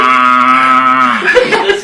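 A man imitates a cow mooing with his voice, one long, loud, close low moo that breaks off into a rougher, chuckling tail.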